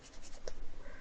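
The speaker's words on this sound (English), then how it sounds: "So I'm just going to do like a crosshatch for now." A pencil crosshatches on paper in quick, even back-and-forth strokes, close and soft, with a faint scratchy texture and no talking.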